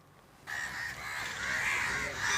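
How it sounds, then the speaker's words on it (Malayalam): Crows caw together at Panchavadi beach in Edakkazhiyur, a rough continuous chorus of overlapping calls that starts abruptly and stays moderately loud. "ഹസൈനാരെ കണ്ടാൽ കാക്കകൾ കൂട്ടമായി എത്തും"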